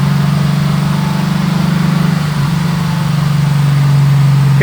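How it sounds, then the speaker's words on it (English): A 2008 Lexus IS-F with a modified 5.0-liter V8, fitted with intake, headers and tube, runs on a dyno, giving a steady loud low engine drone with a brief dip before it settles and rises slightly. "It's got a 5-liter V8 in it."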